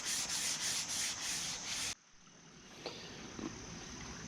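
Sandpaper rubs rhythmically along the grain of a wooden tomahawk handle in quick repeated strokes, loud and close, then stops abruptly, leaving quiet room tone with a couple of faint knocks.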